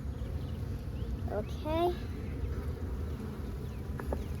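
Honeybees hum around an open backyard beehive during an inspection, a steady close buzz throughout with a brief higher whine from a bee passing near, under a short spoken word.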